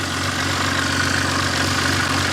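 A BMW three-cylinder diesel engine idles steadily after running on low oil pressure, giving a continuous close, even rumble with a fine mechanical clatter and no talk.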